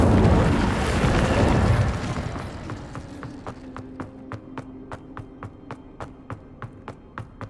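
Incendio fire spell cast in Hogwarts Legacy, a loud whooshing burst of flame for about two seconds that fades into a steady series of faint, evenly spaced crackling ticks.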